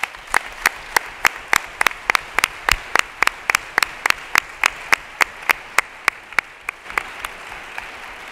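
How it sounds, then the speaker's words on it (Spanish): A congress closing ceremony fills with audience applause, a rhythmic run of sharp claps that sounds more like a few steady clappers than a dense crowd, continuing evenly and thinning toward the end. "el aplauso no es para mí, es para todos vosotros"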